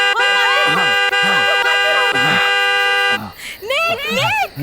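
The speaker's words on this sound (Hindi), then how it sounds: "गाड़ी को हॉर्न मारो।" A car horn blares in one long, steady blast for about three seconds as an enormous bear closes in during a tense action-film scene. Loud, urgent dialogue runs over the horn and continues after it stops.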